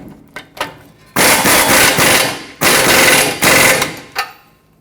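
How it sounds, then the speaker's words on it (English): An impact tool on a 27mm socket runs down a lower ball joint nut on a 2003-2012 Chevrolet Colorado 4x4, with a few short clanks, then loud rattling bursts up close. "Tighten this up with that 27mm socket."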